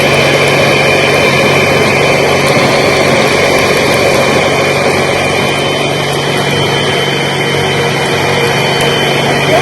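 A loud, steady mechanical whir of a blender making a banana smoothie drones continuously with a constant high-pitched hum layered over broadband noise, never pausing.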